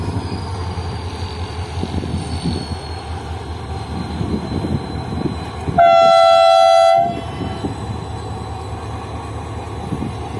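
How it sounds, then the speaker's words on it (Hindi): A Pakistan Railways HMU train rumbles along the line at Dabheji, with a loud sustained horn blast partway through over continuous rolling wheel noise. "चलें आप HMU का साउंड एंजॉय करें"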